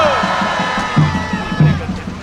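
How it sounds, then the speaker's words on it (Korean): Crowd cheering at an outdoor rally in Busan opposing a presidential impeachment, a loud continuous roar with swelling peaks and tonal voices mixed in. "박수 한번 보내주십시오"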